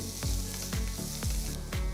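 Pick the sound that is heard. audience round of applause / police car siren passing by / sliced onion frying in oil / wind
sliced onion frying in oil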